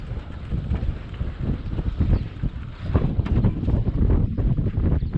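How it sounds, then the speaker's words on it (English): Wind buffets the microphone outdoors on a lake shore during catfish fishing, a steady loud rumbling roar with gusts throughout and no voices. "Just the wind."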